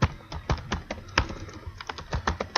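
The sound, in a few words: typing on a computer keyboard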